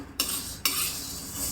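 Peanuts and green gram dry-roasting in a pan, stirred so that two scraping, rustling sweeps start a moment apart and settle into a steady hiss, close and moderately loud with no talking.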